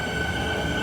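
Train on Melbourne's Sandringham line rumbling past at a station, a steady close roar of wheels on rails with a faint high whine.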